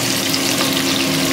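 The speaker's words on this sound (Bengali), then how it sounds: "ভালো করে ভাজা হোক" Pabda fish frying in a pan with oil, a steady close hiss and crackle that holds without pause from start to end, with no voices over it.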